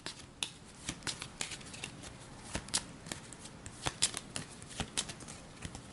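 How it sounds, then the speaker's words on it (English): A Nemesis card deck from the Aeon's End board game being shuffled, with rapid crisp riffling snaps and flicks repeating steadily for several seconds, close by with no talking. "let's go ahead and give the Nemesis deck a quick shuffle"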